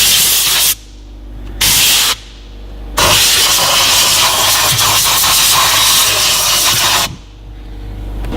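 Compressed air from an air gun blasts into the cracks of a car dashboard during interior detailing, a loud steady hiss coming in several bursts with short pauses, the longest blast lasting about four seconds.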